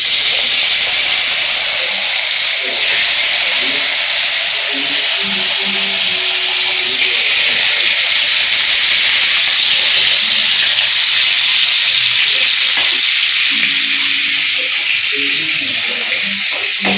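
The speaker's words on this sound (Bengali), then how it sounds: "এই যে তেল গরম হয়ে গেছে এখন আমি মাছ দিয়ে দিচ্ছি" Fish laid into hot oil for a Bengali fish fry, giving a loud, continuous close hiss of frying that holds steady throughout, with faint background sounds underneath.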